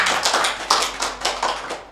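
Audience clapping after a talk on politeness and manners, a short burst of distinct hand claps in an uneven rhythm, close and fairly loud, with no talking over it.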